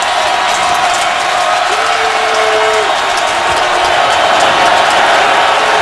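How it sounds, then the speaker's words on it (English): A packed stadium crowd roars continuously as it urges on the Baltimore Ravens defense at a football game, with cheering and applause filling the space and a brief whistle-like tone rising above it. "this crowd urging on the Ravens"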